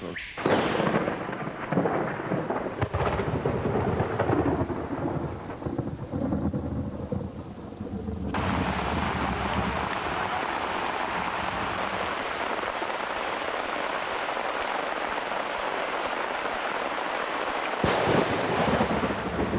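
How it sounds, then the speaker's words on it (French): A thunderstorm with heavy rain, staged at ant scale for a documentary, opens with loud rumbling cracks of thunder and then settles into a dense, steady roar of downpour that lasts to the end, with another thunder burst near the close. "Si la pluie a des effets sur les hommes, à hauteur de fourmis, elle prend des allures de cataclysme."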